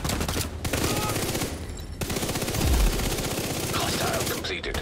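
Rapid machine-gun fire rattles continuously in a bunker shootout video game, dense automatic bursts with brief gaps, loud and close, with a voice briefly heard amid the shooting.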